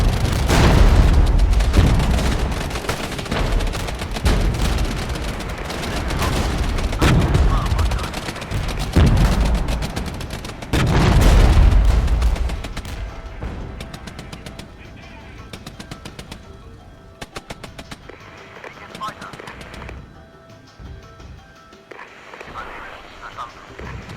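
Gunfire and artillery aimed at the player in the strategy game Regiments, with heavy booms and rapid machine-gun bursts loud at first, then thinning to sparser, more distant shots, with talk over part of it.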